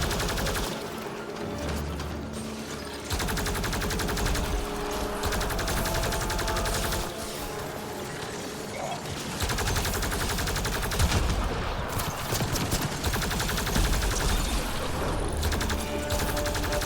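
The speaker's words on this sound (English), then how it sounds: "Oh, a turret, obviously." Automatic turret gunfire in the sci-fi shooter Mass Effect Andromeda, dense rapid bursts rattling almost continuously for the whole stretch, loud and close with booming low impacts mixed in.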